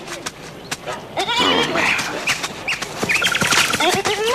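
Sheep bleat on a farm field with young wheat, giving several wavering calls close by in an uneven rhythm, with faint background sounds between them.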